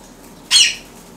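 A young ringneck parrot near a mirror lets out one short, harsh squawk, loud and close, then the room falls quiet.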